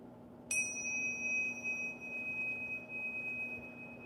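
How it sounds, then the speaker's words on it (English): A single bright metallic ring from a small, very thick brass tingsha bell, struck once and left to sustain with a long, clear, slowly fading tone. "This is a very thick brass bell."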